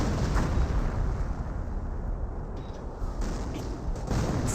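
Continuous rumbling barrage of Royal Artillery shelling in Company of Heroes, a dense, steady wash of distant booms and explosions filling the whole stretch with no clear gaps.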